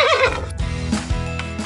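A tiptoi toy pen plays a recorded horse neigh, a short high whinny that wavers and drops into snorting, loud and clear with no talk.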